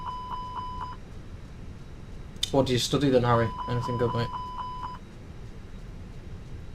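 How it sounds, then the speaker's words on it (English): Cockpit test beeps in a Fenix A319 airliner in a flight simulator: a regular train of short, even electronic beeps, broken off while someone speaks briefly, then starting again. "So we're just going to test the AP5 button. So beep away."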